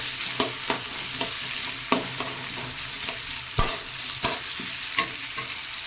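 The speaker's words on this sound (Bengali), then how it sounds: "টমেটো দেব টমেটোটাকে ভালো করে ভেজে নেব" Tomato and onion fry in oil in a pan, a bright continuous sizzle broken by repeated clacks and scrapes of a stirring spoon, close and loud with no talking.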